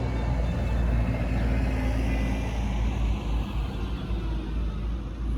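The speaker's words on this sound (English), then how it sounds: "there is a car coming again, so I hope this can be heard" A car approaches and passes on a nearby road, a steady broad rumble and tyre roar holding level throughout before easing slightly at the end.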